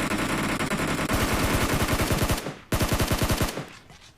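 Rapid automatic gunfire from the battle royale game BGMI rattles in loud sustained bursts, one long volley, a brief pause, then another string of shots that trails off.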